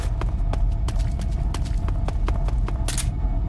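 Footsteps in the video game Metal Gear Solid 3, a run of evenly spaced sharp thuds at a brisk walking pace, crisp and fairly close, with no talk over them.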